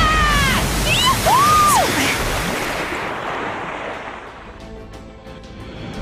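A big wave surges and crashes in the Fate/Grand Order mobile game, a loud rushing wash of water mixed with game music tones and swooping effects that fades into softer sloshing.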